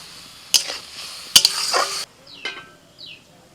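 Cabbage is stirred in a cooking pan, producing a few sharp metallic scrapes and clinks of a utensil against the pan, separated by brief quiet gaps, with faint sizzling underneath.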